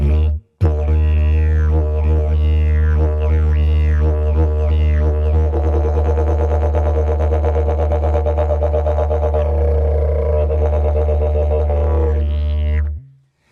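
A human voice imitates a kookaburra's laughing call at a graduation ceremony. It starts with rising and falling hoots, then builds into a long, loud, continuous cackle with a steady low hum underneath for about twelve seconds.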